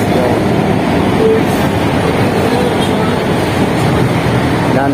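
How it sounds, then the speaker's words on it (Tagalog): An LRT elevated train passes overhead above Marcos Highway in Marikina, a loud, steady rumbling roar that fills the whole stretch without a break. "LRT sa taas."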